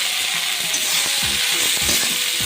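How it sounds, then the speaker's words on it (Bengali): Gime shak greens fry in a pan over a low flame, giving a steady soft sizzle with occasional knocks and scrapes as they are stirred, with no one speaking. "লো ফ্লেম রেখে আমি শাকটাকে ভেজে নিচ্ছি।"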